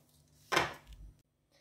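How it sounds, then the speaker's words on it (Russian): A single knife slice cuts the rind off a pineapple standing upright, a short crisp scraping cut followed by a dull thud, then quiet. "Ананас вот, вот так я ставлю столбиком. И срезаю с него его кожицу."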